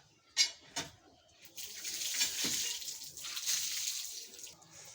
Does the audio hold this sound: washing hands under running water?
yes